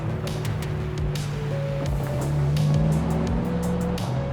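Ford Mustang GT V8 engine pulls under steady hard acceleration, a loud, close, continuous drone with a low rumble and faint tone shifts, with no talking.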